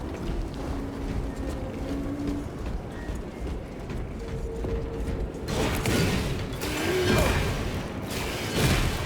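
Cargo elevator platform machinery in the video game Warhammer 40K Space Marine 2, steady mechanical rumbling and creaking with clanking that grows louder partway through.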